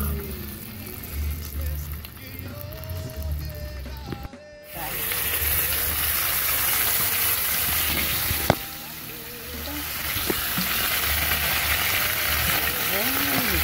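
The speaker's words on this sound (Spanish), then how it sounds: "Un poquito de aceite para freír la longaniza." Longaniza sausage fries in a little oil, a steady sizzle and hiss that briefly drops out and then returns louder with stirring clatter, while a voice speaks nearby in the kitchen.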